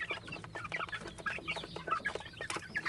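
A flock of young farm chickens, raised from bought chicks, clucks nearby in a busy, overlapping chatter.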